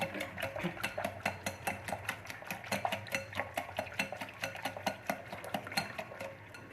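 A spoon clatters rhythmically against a pot as whisked yogurt is stirred into pulao masala, with fast, even metallic taps and scrapes repeating close and steadily throughout, no talking.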